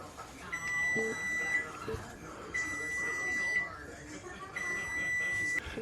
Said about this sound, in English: And that's the timer, 40 minutes.